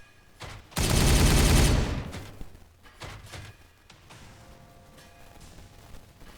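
Ork units open fire in the strategy game Warhammer 40K Regicide: a loud, dense burst of gunfire lasting about a second, trailing off into scattered thuds and quieter battle noise.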